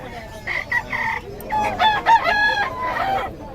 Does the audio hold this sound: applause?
no